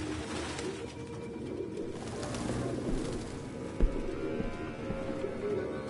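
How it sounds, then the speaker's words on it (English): Pigeons coo continuously in a room crowded with the birds in the video game Detroit: Become Human, a low murmuring chorus with rustling and one sharp knock midway, without speech. "No human could live with all these fucking pigeons."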